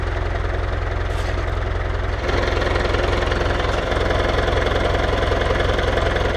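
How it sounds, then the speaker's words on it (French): A tractor engine idles steadily and loud, with a knocking, chugging diesel rumble that thickens slightly partway through as it prepares to move forward. "Je vais avancer le tracteur, ne pas tourner les roues, ne surtout pas toucher au volant."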